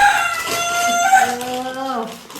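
A chicken calls out in a drawn, wavering crow-like vocalization, close and fairly loud against a quiet background.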